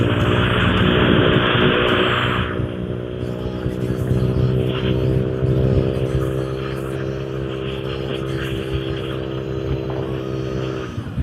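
Loud, steady motorcycle exhaust note fitted with an AHM OLD muffler insert, a deep droning rumble with stacked harmonics that holds close and even throughout, with a brighter hiss easing off after the first couple of seconds.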